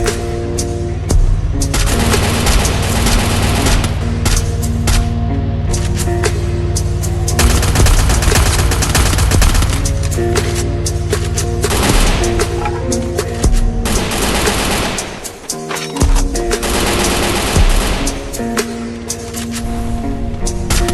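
Dense automatic gunfire from the Free Fire battle royale game, rapid bursts of shots and booms layered over game music, loud and nearly continuous with a brief lull near the end, no talking.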